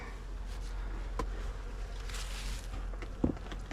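Honeybees buzzing at a hive during winter feeding with dry sugar, a faint steady hum with scattered louder passes of individual bees close by.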